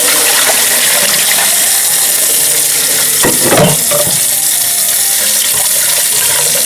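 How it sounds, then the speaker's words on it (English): Running water from a kitchen faucet splashes steadily over boiled bones being rinsed in a sink, a loud continuous rush with a brief clatter midway. "Rinse the bones off."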